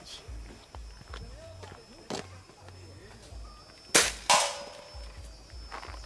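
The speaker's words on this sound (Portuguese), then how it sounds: "Deixa eu dar um tiro teste isso daqui pra mim." A sharp Hatsan BT65 Elite air rifle test shot cracks out, followed moments later by a second loud snap of impact on a target plate, amid quiet background movement and faint sounds.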